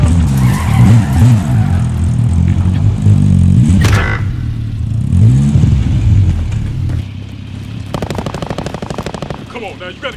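A vehicle driven hard in Call of Duty: Warzone, engine revving and tires skidding loudly, mixed with rattling bursts of machine-gun fire; a voice speaks briefly over the roar.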